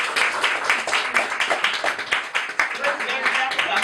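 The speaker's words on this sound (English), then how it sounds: "We got to give you some applause." Audience applause at a house debate: a few seconds of brisk, fairly close clapping with uneven rhythm, partly under talk.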